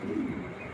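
A single young pigeon gives a short, soft, low coo, close and quiet, in a brief burst that fades out.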